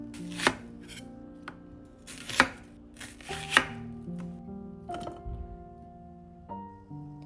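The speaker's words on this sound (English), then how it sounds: "Then prepare half an onion, cut it into bite-sized pieces," A knife chops half an onion into bite-sized pieces on a board, with sharp, close, distinct cuts at an uneven pace and no talking.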